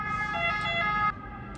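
A loud, sustained ambulance siren wail in an Italian street with steady tones holds for about a second, then drops away sharply, leaving a quieter siren tone continuing in the background.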